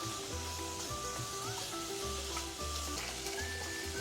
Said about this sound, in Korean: 준비해 두었던 양파 당근 이렇게 볶아주세요